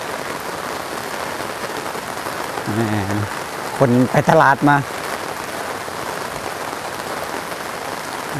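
Rain falls steadily as a dense patter on surfaces at a rural village market in Laos, with a few people talking briefly over the constant downpour.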